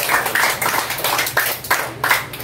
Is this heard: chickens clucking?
no